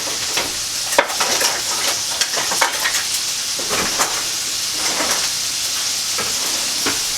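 A spoon stirs pasta in a pot of hot water, with repeated scraping clinks against the pot over a steady bubbling hiss, loud and close, with no talking.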